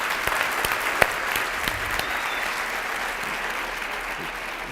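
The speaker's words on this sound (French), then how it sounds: "Alors, une bonne main d'applaudissements" Sustained audience applause for a chef's foie gras demonstration, steady dense clapping throughout at moderate level with a few sharper individual claps standing out.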